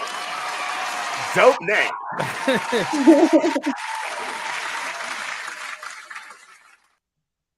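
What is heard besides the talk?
applause for Kilohertz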